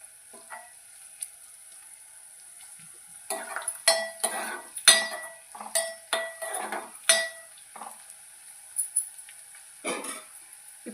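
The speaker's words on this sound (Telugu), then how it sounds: "చూడండి, ఆనియన్స్ బాగా ఫ్రై అయ్యాయి." Onions frying in a home kitchen pan with a sizzle, scraped and stirred by a utensil in bursts of clattering strokes against the metal, close and fairly loud, with quieter sizzling between.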